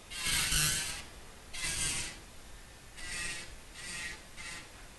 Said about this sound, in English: I'm drilling out this pink because that's where I'm going to be adding the new color in.